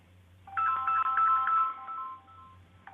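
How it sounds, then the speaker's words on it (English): Telephone on another line rings with a warbling electronic tone, one long burst and a shorter one starting at the end, over a low steady hum. "That's my other line ringing."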